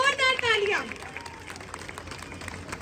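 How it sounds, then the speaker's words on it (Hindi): Audience applause at an Independence Day 2024 community event in Indira Nagar, Delhi: a brief burst of clapping under a loud announcer's voice, then settling into scattered, fainter crowd noise. "अब तालियां बजाइए जरा अपने लिए, जोरदार"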